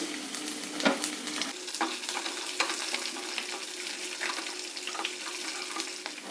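Ginger, curry leaves, cumin and green chilli sizzle in hot oil for a pongal tempering, a steady bright hiss with occasional stirring scrapes and pops, close up.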